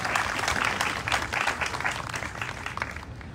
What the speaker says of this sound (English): So if you give all those sponsors a round of applause for being here